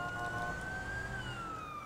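A police car siren in GTA V wails as a steady, loud rising-and-falling tone over background game noise, with no talking.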